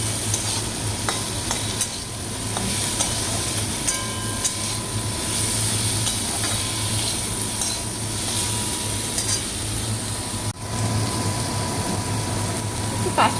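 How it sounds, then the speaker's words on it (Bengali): Potatoes frying in a small amount of oil, a steady loud sizzle with frequent stirring scrapes and clatters of the utensil against the pan, one sharp knock near the end. "আলু ভাজছি।"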